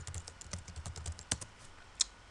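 Someone types a sudo command into an Ubuntu Linux terminal: close, rapid computer keyboard keystrokes in an uneven patter, with a few sharper taps standing out.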